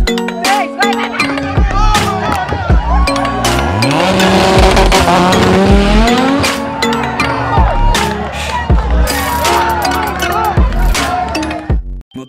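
Modified street cars launch from a start line in São Paulo: loud engines rev and roar as the cars pull away, with tire squeal and skidding over a cheering crowd, then the sound cuts off near the end.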